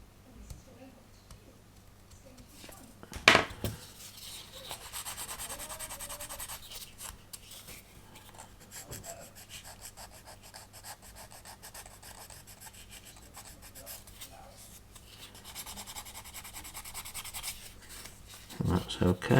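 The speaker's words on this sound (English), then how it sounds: "I'm just going to carefully trim the nub down a little bit." A plastic nub is carefully trimmed on a 1/48 Miniart Junkers F13 model kit, giving faint, intermittent scraping and rasping with a few sharper clicks at close range.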